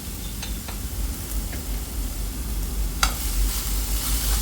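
Pan-sautéing of string hopper kottu ingredients, with a steady soft sizzle under scattered scrapes of a spoon on the pan and a sharper clack of stirring near the three-second mark.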